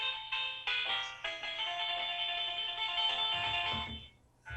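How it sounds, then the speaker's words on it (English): A mobile phone ringtone goes off during a town select board meeting, a loud repeating melodic tune close by that plays for several seconds and then stops. "Your phone's ringing."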